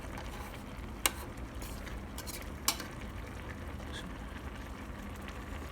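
Egg gravy is stirred in a pot with a faint, steady scraping, and two sharp clicks of the utensil against the pot rim sound over a quiet simmer.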